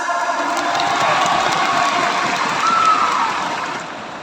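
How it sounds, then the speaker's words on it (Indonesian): A seminar audience in Tangerang, Indonesia, applauds and cheers, a dense wash of clapping with scattered shouts that holds steady and loud, then fades slightly toward the end. "Aplaus buat Anda semuanya dari Sumatera."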